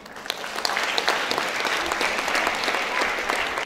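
Steady applause from an audience at a school arts department event, dense and continuous clapping with a few sharper individual claps standing out, loud and sustained throughout.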